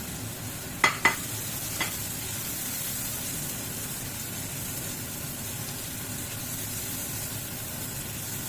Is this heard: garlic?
yes